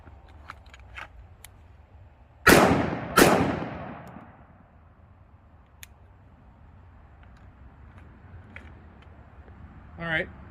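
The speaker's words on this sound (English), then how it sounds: "I'm gonna draw and I'm gonna take 2 shots on target" A 1911 pistol drawn from appendix carry fires two sharp, loud shots about a second apart, each ringing briefly before fading to quiet.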